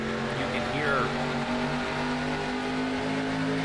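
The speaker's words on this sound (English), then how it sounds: "you hear him lift off that throttle and do the same" A race car engine in a stock car racing video game at the Magic Mile, droning steadily, then the note sliding downward as the throttle is lifted, under a continuous hum of other engines.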